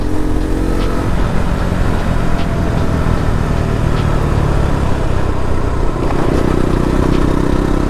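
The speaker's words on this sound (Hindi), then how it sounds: "मैं ऐसे बाइक राइड कर रहा हूँ भाई" A motorcycle ridden along a road, its engine and wind roar steady and close throughout, with light clattering on top and no one speaking.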